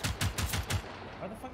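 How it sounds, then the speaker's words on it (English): Automatic gunfire in the video game Generation Zero, a rapid burst of about five heavy shots followed by a fading echo, loud and close, with faint voice in the background. "I'm gonna stop shooting at that guy."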